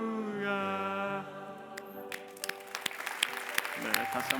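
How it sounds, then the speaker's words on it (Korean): At a Thanksgiving Sunday church service, sustained sung or played tones give way to a church congregation's applause, which starts as a few scattered claps and grows into quiet, uneven clapping. "다시 한번 큰 박수로 축복해 주시고"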